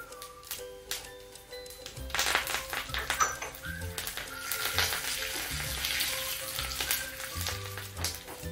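Mustard seeds, urad dal and curry leaves crackle and sizzle loudly in about two teaspoons of hot oil in a pan, with sharp popping and spitting for chutney tempering, no talk.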